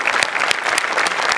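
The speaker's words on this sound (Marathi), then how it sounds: "एकदम जोरदार टाळ्या" Loud, dense audience applause at a Marathi comedy stage show, a steady burst of clapping with no voices over it.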